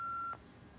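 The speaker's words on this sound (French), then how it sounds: "Laissez un message après le bip." A single short, clean electronic beep from an answering machine sounds for about a third of a second before a message, then cuts to a faint, quiet line hiss.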